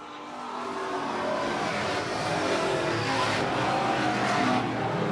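Super street stock race cars roar steadily around a short oval track, several engines droning loud and continuous with slight surges as the pack runs close together.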